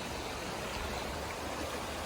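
Fast-flowing water rushing at Zambaulim temple in Goa during monsoon rain, a steady, broadband roar with no breaks.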